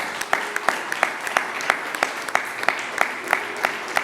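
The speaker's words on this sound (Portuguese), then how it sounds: "E vamos aplaudir a Jesus em forte." A church congregation claps in a steady rhythm, each beat sharp and evenly spaced over a soft background wash, moderately quiet and without talk.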